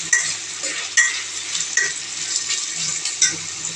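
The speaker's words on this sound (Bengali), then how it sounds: "এখানে একটু নাড়াচাড়া নিয়ে নিচ্ছি, পেঁয়াজগুলো একটু ভেজে নিচ্ছি।" Onions fry in hot oil for chicken biryani, a bright steady sizzle broken by periodic spatula scrapes as they are stirred, close up and with no talking.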